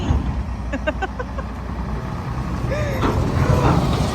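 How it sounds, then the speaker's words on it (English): A lorry passing by on a road, a continuous low engine rumble and road noise throughout, with a brief beeping and a voice in the background. "he loves seeing these lorries going past"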